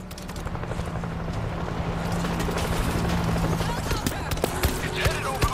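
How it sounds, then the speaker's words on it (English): Helicopter in the video game World War Z approaching to land over New York, a steady low rotor drone building in loudness beneath scattered clatter and distant game noise, with no clear voices. "Helicopter's making a landing!"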